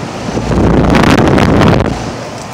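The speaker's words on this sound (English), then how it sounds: "It's got a brand new copeland scroll compressor. I remember once it was really loud, and now this thing's quieter than I thought." A 2011 Rheem Prestige Series 3.5-ton central air conditioner with a new Copeland scroll compressor runs outdoors: a close, steady broadband whooshing roar that swells and fades over a few seconds, with no talking.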